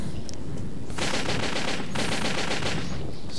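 Revolver fire in Metro 2033, loud gunshot bursts in two clusters with a short gap between them, over a steady noisy background.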